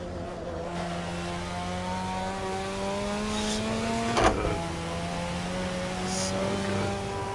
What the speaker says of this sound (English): A lot of cars you can just be digital, just like really get on the gas